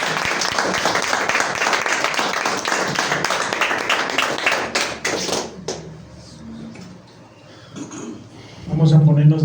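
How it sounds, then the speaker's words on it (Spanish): Church congregation breaking into loud, dense applause that fills the room for about five seconds, then stops abruptly and gives way to a quieter stretch with a voice speaking. "Denle un aplauso al Señor."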